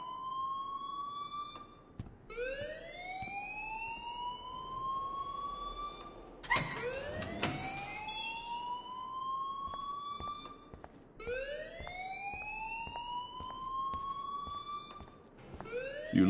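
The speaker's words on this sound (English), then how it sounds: "please turn off that alarm since that's your job." Looping electronic alarm in a video game, rising siren-like sweeps repeating every few seconds, loud and steady with a brief clattering burst in the middle; no talk.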